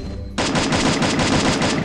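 Rapid automatic gunfire in the Free Fire battle royale game bursts in suddenly and keeps rattling in steady close, loud rounds after a brief quiet moment.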